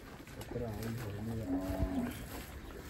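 Village cattle low and moo in a couple of deep, drawn-out calls, moderately close, over faint outdoor background noise.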